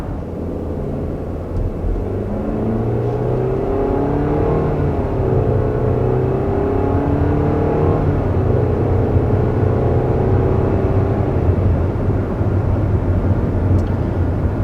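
A 2021 Nissan Rogue accelerates from inside the cabin with simulated CVT shifts, its engine drone climbing in pitch in stepped rises and falls over a steady road rumble.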